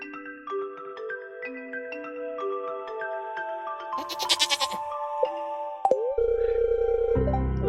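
Goats in the Stardew Valley farming game let out a short burst of rapid, wavering bleats amid chiming game music and interface tones, followed by a loud sustained buzz near the end.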